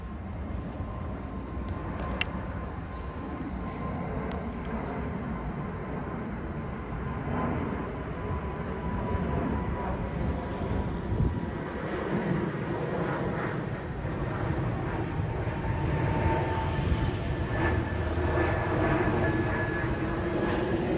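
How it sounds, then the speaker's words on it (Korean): An airplane takes off near an apartment complex, a steady broadband engine roar that holds and gradually swells over about twenty seconds, echoing off the buildings, with no talk. "때마침 비행기 이륙 소리를 확인할 수 있었습니다"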